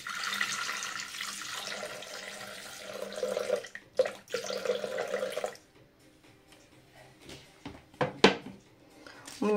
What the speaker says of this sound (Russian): Теперь мне нужно добавить 320 грамм воды.